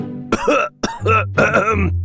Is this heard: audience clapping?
no